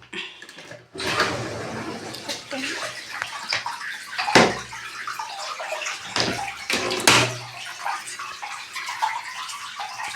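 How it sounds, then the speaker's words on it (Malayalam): Water drains out of a washing machine after a clothes wash, rushing and gurgling close by in uneven surges with splashy bursts throughout. "നല്ല രസമുണ്ടല്ലേ ഈ വെള്ളം പോണാണ്"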